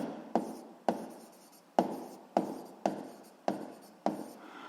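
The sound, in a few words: writing by hand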